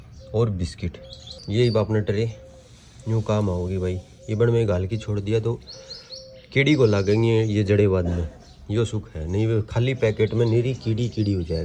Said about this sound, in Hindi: गजब को चिड़िया चाड़ियाँ और पक्षी बोल रहे हैं